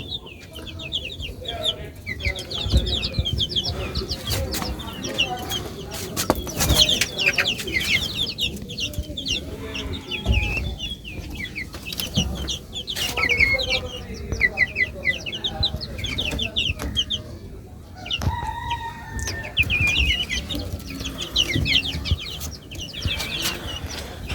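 Chickens cluck busily around a large rooster on a rooftop, with repeated short clucks and chattering calls scattered over the whole stretch, fairly close, under light background noise and occasional talk.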